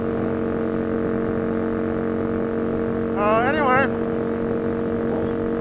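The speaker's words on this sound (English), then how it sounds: "this is the Aprilia RSV 1000 Factory, also known as the Lion Bike" Aprilia RSV 1000 R Factory motorcycle engine while riding, a steady droning hum throughout with a brief rising whine midway; a voice speaks briefly over the engine.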